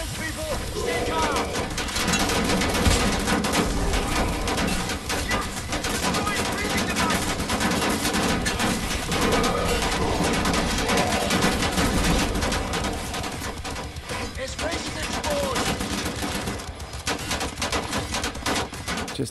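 Sustained automatic gunfire and bursts of shots in the World War II shooter game Wolfenstein, dense and loud throughout with layered explosions and combat noise, and game voices briefly heard in the mix.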